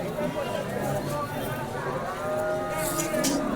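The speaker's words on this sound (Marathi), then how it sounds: "सांगोला बाजारामध्ये बऱ्याच लांबून गाई येत असतात" Cows at the Sangola cattle market moo nearby, with drawn-out lowing calls over a busy background of market chatter and people talking.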